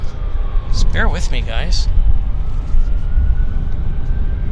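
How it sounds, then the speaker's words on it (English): A faint ambulance siren near an airport wails distantly behind loud talk and steady rumbling background noise, its tone rising and falling in a few brief sweeps. "You guys, can you hear the sirens?"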